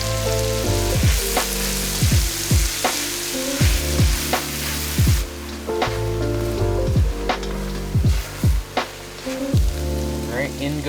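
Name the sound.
mushrooms and onions frying in a pan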